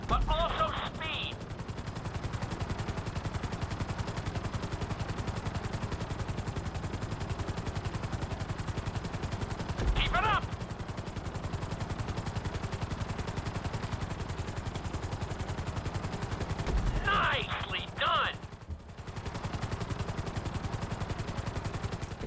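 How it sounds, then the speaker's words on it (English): Helicopter in the video game Grand Theft Auto V during a flight school course, a steady loud rotor drone running throughout with brief bursts of gunfire-like game effects scattered over it. "we'll see how well you handle the chopper"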